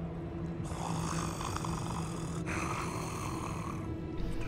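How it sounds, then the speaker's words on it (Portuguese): A character in Hogwarts Legacy snores loudly, a pair of long, rasping breaths over a steady game ambience. "Esse tá roncando forte."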